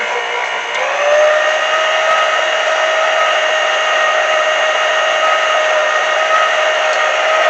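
An electric mixer beats cake mix with butter and eggs for a cheesecake-style ooey gooey cake, giving a steady, loud motorized whine that rises in pitch just after starting and then holds evenly throughout.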